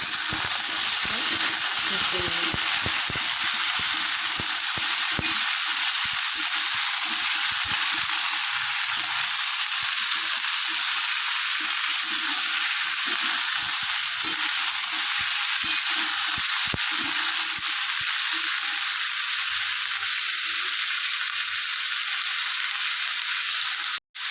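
Soaked chickpeas and vegetables fry in a pan with a constant, fairly loud sizzle. Frequent soft scrapes and taps of stirring sit beneath the hiss, which cuts off abruptly at the very end.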